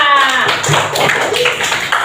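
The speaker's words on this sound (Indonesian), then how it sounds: "Baik, ya. Tepuk tangannya." A third-grade class claps hands together during a maths lesson on length measurement, a short burst of group clapping heard close and loud, mixed with voices talking over it.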